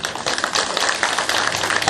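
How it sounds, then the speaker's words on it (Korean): Dense, steady applause from a large crowd at an outdoor political rally in Bongha Village, a continuous wash of many hands clapping at once with no voices standing out. "이명박 대통령이 공정사회를 만들 수 있도록 여러분 크게 박수 한번 보내주십시오"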